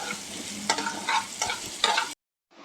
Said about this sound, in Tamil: இந்த தேங்காவும் நெய்யில் வந்து நல்லா பொன்னிறமாக வறுபட்டு வரணும்